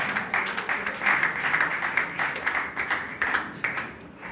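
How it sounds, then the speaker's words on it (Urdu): A church congregation at a Mother's Day service claps hard and steadily, dense rhythmic applause filling the space throughout without pause. "زوردار تالیوں کے ساتھ پریز ہاللیلویا"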